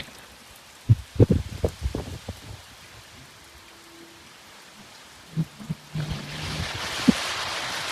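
Rain patters down with scattered drips and knocks, and the steady hiss swells noticeably louder toward the end.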